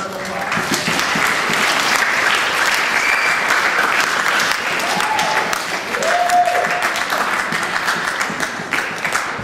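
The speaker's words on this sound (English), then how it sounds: "Let's give Ms. Hammond a round of applause." Loud, sustained applause from an arts-event audience rolls on without pause for nearly ten seconds, a thick wash of many hands with faint voices mixed in.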